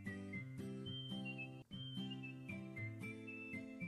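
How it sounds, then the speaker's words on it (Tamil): A steady, harmonic whistle, likely from a pressure cooker boiling beetroot in a home kitchen, rings continuously and fairly loudly with a few wavering pitch steps and one brief dip, and no talk over it. "ரெண்டு விசில் விட்டு எடுத்துருங்க"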